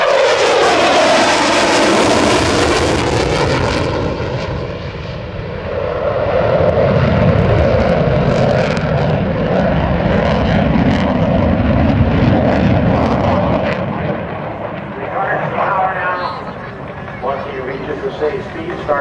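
A Boeing F/A-18F Super Hornet roars past during a demonstration at the 2009 Dover AFB airshow, a loud, sustained jet rumble that swells and fades while an announcer talks over it.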